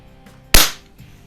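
A single sharp, loud crack from a Daisy model 717 .177 single-stroke pneumatic pellet pistol, close by, with a quick decay and a faint impact knock just after.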